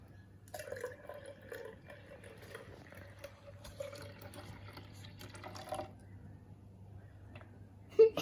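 Swimming pool water is poured into a container, a faint, quiet trickle that runs for several seconds and then ends with a small knock.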